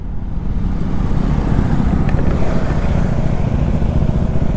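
A KTM Duke 390 motorcycle fitted with an Akrapovic exhaust runs steadily and loudly up close, its deep engine and exhaust drone continuous throughout with no talk.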